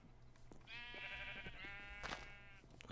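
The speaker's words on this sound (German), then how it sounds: "Da ist auch noch ein Schaf." A sheep bleats in Minecraft, one drawn-out wavering call over quiet game ambience, followed by a brief soft rustle.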